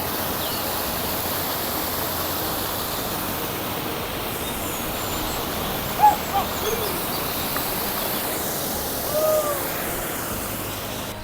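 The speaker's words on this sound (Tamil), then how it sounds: "பாருங்க ஒரு ஓடை மாதிரி இருக்குது, நீரோடை மாதிரி சூப்பராக தண்ணி போகுது" A stream runs through a village at the Devaram hill foothills in Tamil Nadu, giving a steady, even rush of flowing water throughout, with a couple of faint, brief sounds partway through.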